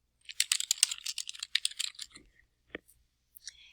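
Close, crisp typing on a computer keyboard: a fast burst of clicking keystrokes, then a few scattered taps after a pause, quiet and alone.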